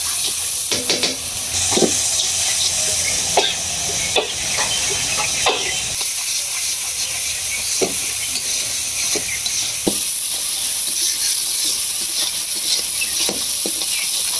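Spiced vegetable curry with turmeric, salt, chili powder and a splash of water sautéing in a pan, giving a loud continuous hissing sizzle close up, broken by irregular scrapes and taps of a stirring spoon, with no voices.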